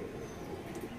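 Imported Teddy pigeons kept for sale coo softly in a low, continuous murmur, with a faint chirp or two somewhere behind them.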